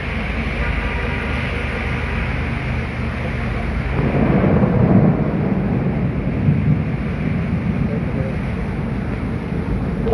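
Heavy downpour during a nor'wester thunderstorm on a main road in Uttara, Dhaka, a steady loud roar of rain that swells briefly around the middle, with low rumbling beneath.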